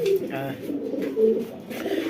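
A male pigeon coos in soft, repeated low throaty phrases, fairly close, beside a pair with the female sitting in a nest box; a faint voice murmurs underneath.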